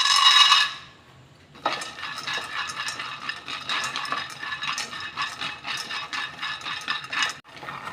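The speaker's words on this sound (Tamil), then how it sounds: "வேர்க்கடலை அதே அளவு ஒரு கப் எடுத்துக்கிறேன் இதை வறுத்து எடுத்துக்கலாம்" Peanuts dry-roasting in a pan for a millet laddu, a steady dense rattle and scrape of nuts being tossed and stirred against the metal after a brief opening burst, close and continuous with no talking.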